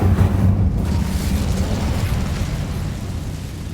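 An Incendio fire spell blasts in the Hogwarts Legacy video game: a loud, deep, rumbling burst that starts at full force and slowly fades over a few seconds.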